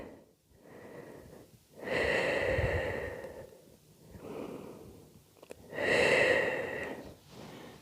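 Slow, deep breaths during a relaxing stretch, with two long audible exhales and softer inhales between them, close and fairly quiet.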